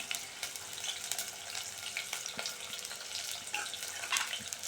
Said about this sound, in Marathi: आता इकडे मी बारीक चिरलेला कांदा टाकत आहे